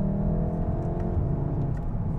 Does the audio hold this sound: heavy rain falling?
no